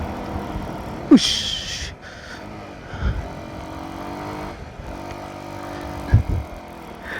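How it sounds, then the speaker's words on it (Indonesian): Vehicles pass along a mountain road near a bridge, rumbling engines swelling in brief loud passes around a steady idling motorcycle drone, with a short exclamation from a rider. "di sekitar itu juga masih ada kendaraan-kendaraan yang lewat jalur ini guys"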